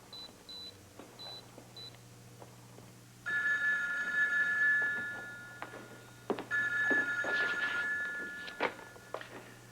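After a few short dial beeps, a telephone rings out on an outgoing call, its electronic ring repeating in two long bursts with a pause between, near and clear over faint room noise.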